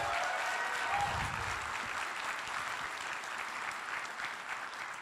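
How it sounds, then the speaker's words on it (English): An audience at the Shmoocon 2020 security conference applauds Heidi, steady massed clapping that holds evenly across five seconds and tapers slightly toward the end, with no talking over it. "So big round of applause for Heidi"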